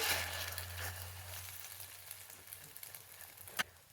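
Egg-coated bread frying on a hot tawa, giving a steady soft sizzling hiss with a faint low hum and one small clatter near the end.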